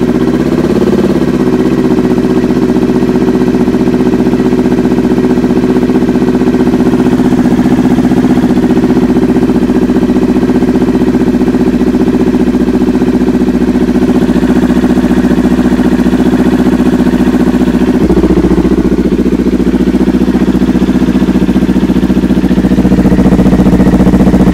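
Motorcycle engine idling through a LeoVince LV-10 slip-on exhaust, a steady low rumble that holds loud and even for the whole stretch with a slight shift in tone near the end, no talk over it.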